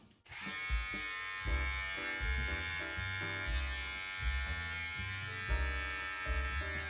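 A Braun beard trimmer 7 cutting through a beard, a close, steady electric buzz that pulses and dips in repeated strokes as it moves across the hair.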